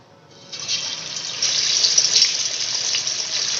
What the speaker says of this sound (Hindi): ये ऑयल गर्म हो चुका है, अब इसके अंदर डालेंगे पीस।